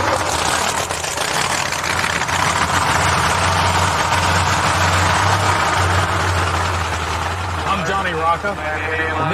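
Loud and near, a 1933 Willys nostalgia drag racing car idles with a deep, lumpy, steady rumble that runs throughout, while someone talks over it.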